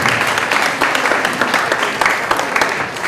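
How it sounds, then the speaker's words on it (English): Steady audience applause at an evening flag raising ceremony, a dense continuous wash of many hands clapping, fairly loud and sustained for the whole stretch. "And a round of applause, please."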